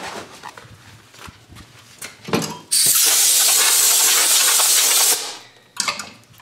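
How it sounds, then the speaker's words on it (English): A compressed-air nozzle from an air compressor blasts dust out of a Mya-Moe instrument in the workshop: a loud, steady hiss lasting about two seconds, framed by softer handling knocks. "And then I'm going to blow it out in the air compressor."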